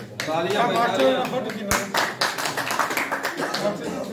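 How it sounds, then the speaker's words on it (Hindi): A small group clapping in welcome, several quick rounds of hand claps close by, largely under loud, cheerful talking. "तालियों से स्वागत।"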